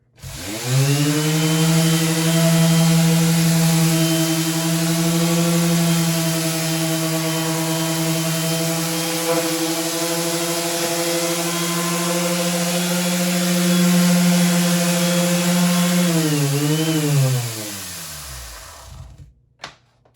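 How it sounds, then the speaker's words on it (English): A power sander roughs up a laminate floor, giving a loud, steady motor hum with a buzzing drone that holds for about seventeen seconds before winding down and stopping. No voices. "I'm gonna rough up the area, rough up this laminate floor with a sander"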